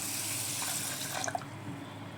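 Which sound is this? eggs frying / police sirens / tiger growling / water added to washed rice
water added to washed rice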